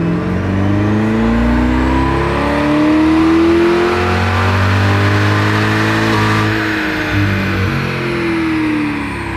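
A Lingenfelter-supercharged C8 Corvette E-Ray runs on a dyno, its engine roaring loudly and steadily as it climbs through the revs, then briefly dipping and pulling again.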